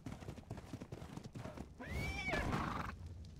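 A horse in a video game (Ark Survival) gives a loud, shrill whinny that rises and falls for about a second, after a stretch of muffled thumps and shuffling.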